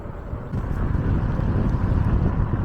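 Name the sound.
gusty wind while riding an e-bike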